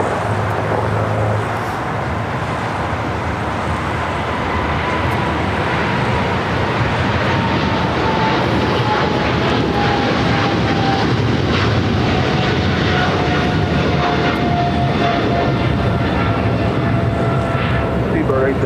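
A British Airways airliner rolls down runway 25R at LAX, a broad, continuous roar of jet engines that holds steady throughout, with a slowly descending whine over it and occasional faint talk beneath.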